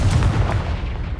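Confringo fire spell from the Hogwarts Legacy video game, a short burst of booming, crackling explosion that fades over about a second.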